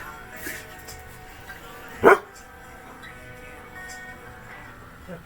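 A single sharp dog bark cuts through mid-clip, close and fairly loud, against a quiet indoor room with a low background hum.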